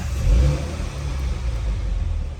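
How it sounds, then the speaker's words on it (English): A 2016 Mini Hatch John Cooper Works engine starts and idles with a low rumble, exhaust valves closed, revs up briefly near the start, then settles into a steady throaty drone. "if we go ahead and start the car up"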